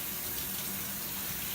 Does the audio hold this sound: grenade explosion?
no